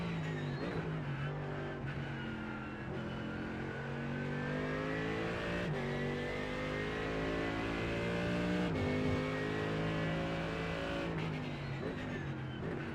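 A Mercedes GT3 race car in a racing video game at Daytona drones steadily as the engine climbs through the revs, with several sharp gear shifts and no voices over it.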